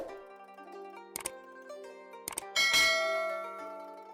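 A notification bell chime, struck twice and then once more with a bright final ring that sustains and fades over a soft, steady tonal background.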